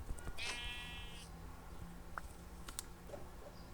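A sheep bleats once in a wavering, synthetic-sounding call, followed by soft clicks and small game-like sound effects in a quiet setting, in Minecraft.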